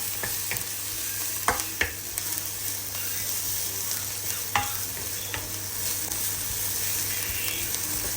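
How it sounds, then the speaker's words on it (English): Steady sizzling of eggs frying in a pan, with a few sharp clicks and taps of a utensil against it, no voices. "That's frying up quite well."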